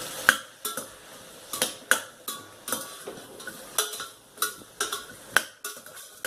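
Brinjal and drumstick pieces for a spicy Tamil kulambu are tossed in a pan, a spatula clinking and scraping against the metal in a steady irregular rhythm over a low background sizzle, with no voices.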